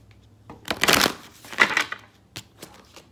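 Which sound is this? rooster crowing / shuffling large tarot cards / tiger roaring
shuffling large tarot cards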